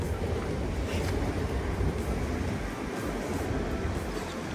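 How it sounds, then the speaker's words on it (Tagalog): Strong storm wind roaring outdoors during a red weather warning in the UK and Ireland, a loud, constant rushing blast with heavy buffeting on the microphone and no let-up. "check natin sa labas kung ano kalakas talaga ang hangin dyan sa labas ngayon"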